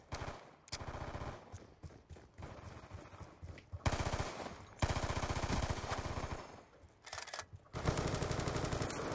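Rapid Peacekeeper submachine gun fire in Call of Duty: Black Ops II on the Nuketown map, heard as loud, dense automatic bursts with brief pauses between strings of shots. No speech.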